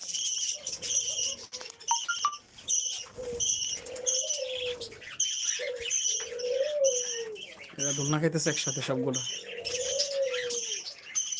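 Pet birds chirp and tweet steadily in a home aviary while an adult feeds its chick, with someone talking over the bird calls throughout.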